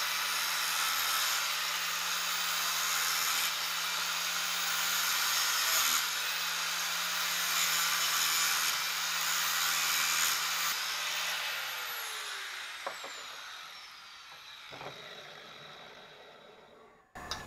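An angle grinder with a flap disc grinds the weld bead on a shortened driveshaft held in a vise, a loud sustained whine for about twelve seconds that then winds down as the disc spins to a stop.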